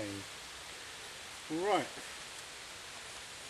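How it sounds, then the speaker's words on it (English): Rain falls steadily through pine woods, a soft, even shushing wash that fills the whole stretch, with a single brief voice near the start. "now I've got that lovely shushing noise of rain."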